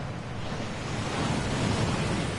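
A rushing waterfall in the video game Hogwarts Legacy, a continuous broad roar of falling water, steady and fairly close, with no talk.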